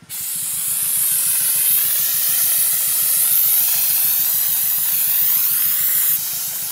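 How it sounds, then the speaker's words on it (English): Dry ice blaster driven by an air compressor sprays a Porsche GT3RS, a steady loud close hiss of blasting air holding for several seconds with a low rhythmic compressor pulse beneath, cutting off abruptly near the end. "I feel like did I kick the breaker from my air compressor or something? Oh, there it goes."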